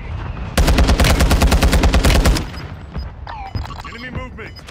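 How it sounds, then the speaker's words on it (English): Gunfire and a friendly mortar strike in Warzone 2: a loud, fast burst of automatic fire lasting about two seconds, then quieter game sounds and scattered radio-style voice chatter. "Friendly mortar strike on the way"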